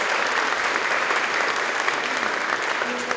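An audience at a Syttende Mai bunad show gives a round of applause for a family, sustained and fairly loud clapping from many people, dense and even from start to finish.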